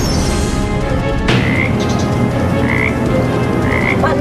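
A frog croaks loudly and close, with repeated rising calls after a sudden sharp onset, the croaks spaced about a second apart over a rough, noisy background.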